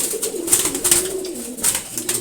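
A racer pigeon and a Giribaz pigeon, both males, coo in steady throaty rolls as they scuffle, close and clear, with short bright rustles between calls and no voices.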